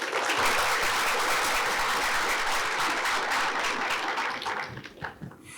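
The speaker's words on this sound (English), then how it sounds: "Can we have a round of applause for him?" A seated audience at a skill-development training session breaks into dense, sustained applause that stays loud and steady, then thins and tapers away over the last second.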